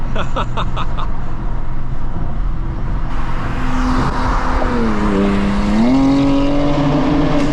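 Exhaust note of a 900hp BMW G87 M2 on a road drive, a steady low engine drone with a rising and falling rev sweep near the end, loud throughout and heard alone.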